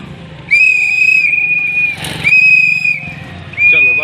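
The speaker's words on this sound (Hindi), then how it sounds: "हम सीटी बजाते तो सब आ जाते हैं एक साथ" Sharp, shrill whistle blown to gather schoolchildren, sounding in three long sustained blasts with short breaks between them, loud and close, with faint background voices.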